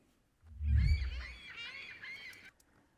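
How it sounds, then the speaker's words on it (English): A seagull call sound effect gives one honking, nasal squawk lasting about two seconds, heard clearly and alone over a low rumbling thump at its start. "we've got a little seagull noise to emphasize this seagull coming in."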